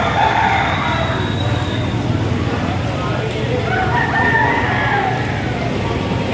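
A rooster crows amid a noisy livestock market yard in Padre Garcia, Batangas, with people talking and general commotion throughout.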